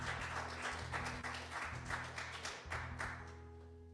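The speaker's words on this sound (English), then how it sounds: "One more round of applause for Jimmy and Chris." Audience applause at an open mic night, a steady wash of clapping that stays fairly level throughout, with a sustained tonal hum running underneath and no voices over it.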